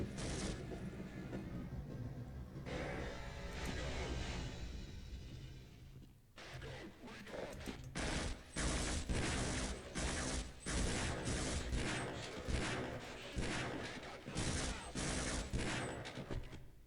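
Automatic gunfire in the Half-Life video game, in a long rapid burst of evenly spaced shots that follows a stretch of mechanical rumbling and clanking, loud and close throughout.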